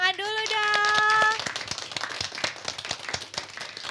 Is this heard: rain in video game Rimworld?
no